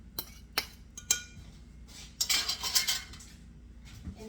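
Metal utensils clink sharply against a pot while gelatin is stirred into a hot gummy bear mixture just taken off the flame, with a few spaced single knocks followed by a busier cluster of scraping clinks, close and fairly quiet.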